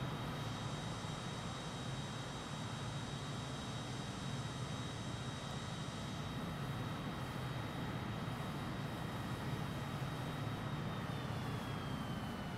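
A MiG-21bis jet in Microsoft Flight Simulator 2020, producing a steady, faint broadband engine roar with a thin high whine running unchanged throughout.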